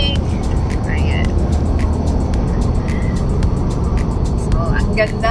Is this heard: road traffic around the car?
yes